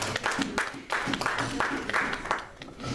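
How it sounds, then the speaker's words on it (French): A church congregation applauds in steady, dense clapping that fills the whole moment, close and fairly loud, with crowd voices mixed in underneath. "Acclamons pour Dieu."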